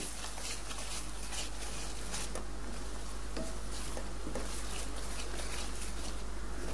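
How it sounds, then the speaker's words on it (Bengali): Masala being stirred and fried in a pan while cooking a chicken feet, wings and gizzard curry with potatoes, a steady close sizzle with scraping stir strokes throughout and no voices. "লবণ দেওয়া হয়ে গেলে মশলাটা নাড়াচাড়া করে আরও কিছুক্ষণ কষিয়ে নিচ্ছি"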